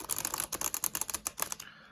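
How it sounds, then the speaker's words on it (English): Tarot cards riffle shuffled by hand, a quick run of close, crisp flutters and clicks over about two seconds, ending with the cards settling. "I'm just going to riffle shuffle it one more time"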